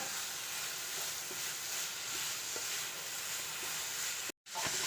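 Grated coconut stirred in a frying pan for a banana snack, a soft, even sizzle and hiss with faint scraping, cut by a brief dropout near the end.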